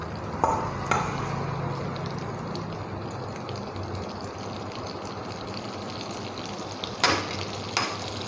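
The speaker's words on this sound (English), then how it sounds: "And stir it and cook for just a minute or until the butter becomes aromatic of the garlic flavor" Garlic frying in melted butter in a pan while being stirred: a steady, soft sizzle runs throughout, broken by a few sharper scrapes and taps of the spoon near the start and the end. No voices.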